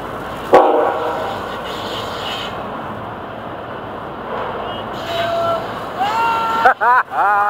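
An FEC freight train with locomotive 202 rumbles along close by, with a voice briefly heard, and short horn blasts sound near the end.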